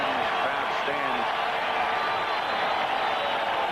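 A football stadium crowd at a rainy 1981 NFL divisional playoff between the New York Giants and San Francisco roars in a steady, broad wash for the defense, with a commentator's voice faintly underneath at the start.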